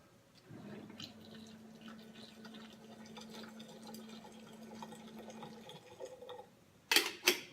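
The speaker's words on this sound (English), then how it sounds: "Now we're going to finish adding water up to our mark of like 20 ounces or 585 grams" Hot water from a kettle poured steadily into a French press of coffee grounds, a continuous close trickle lasting several seconds before it stops, followed by a couple of sharp clinks.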